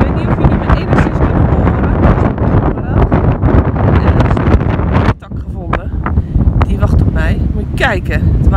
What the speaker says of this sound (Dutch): Het waait echt.